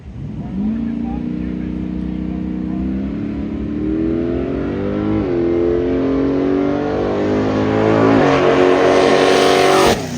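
A Chevy Nova drag racing car on a time trial run in Nevada, its engine loud and close as it revs hard and climbs steadily through the gears, pitch rising in steps over about ten seconds.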